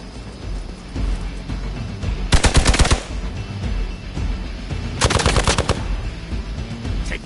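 Two sharp bursts of rapid automatic gunfire, each lasting about half a second, ring out loud and close over a steady background rumble.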